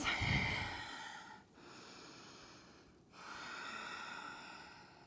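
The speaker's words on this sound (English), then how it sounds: "Slow down your breathing." Deep breathing during a yoga headstand practice: a close, audible inhale followed by two long, slow airy exhales with brief pauses between them.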